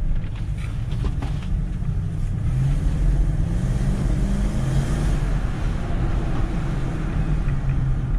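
BMW X5 E53 4x4 being driven, a steady low engine and road rumble with wind buffeting, continuous and close from inside the vehicle, no talk.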